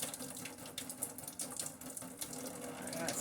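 Pasta water drains into a kitchen sink in a steady, close, splashing rush that runs the whole stretch without pause.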